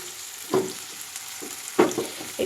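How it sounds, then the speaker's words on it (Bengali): Onions frying lightly in a pan, a steady soft hiss with a few louder sizzling bursts as the pieces are stirred. "তো বেশি ডার্ক করে ভাজবো না পেঁয়াজটা"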